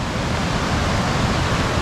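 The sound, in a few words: whitewater rushing down a river near Lake Manapori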